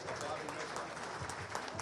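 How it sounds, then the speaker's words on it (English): Applause from a racing crowd at Plainville Stadium for driver Denny Zimmerman, a faint, steady wash of clapping heard at a distance throughout the short moment. "Denny Zimmerman, a big round of applause for Denny"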